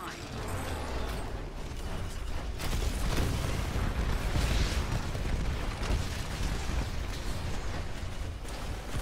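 Cluster missile explosions in Titanfall, a dense, continuous stretch of booming blasts and crackling mechanical debris that stays loud and rumbling throughout, with no talking.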